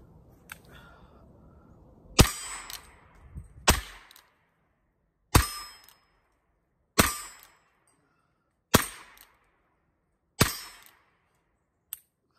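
A Ruger Single Six .22 revolver fires at targets, six sharp cracks spaced a second or two apart with ringing tails, followed by a fainter final report, outdoors with no talking.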